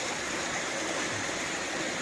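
A stream flows along the Appalachian Trail, giving a steady, full broadband rush of water that holds constant and fairly close for the whole stretch, with no voices.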